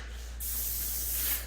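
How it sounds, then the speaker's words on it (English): A spray gun sprays Tricorn Black semi-gloss paint onto cabinets in a single short, close hissing burst. "then we go ahead and spray right over it"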